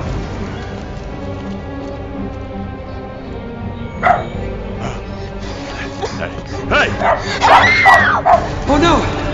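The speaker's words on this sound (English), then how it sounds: "What is with that dog?" A dog barks and whimpers in scattered bursts that grow louder and more frequent toward the end, with people talking over it.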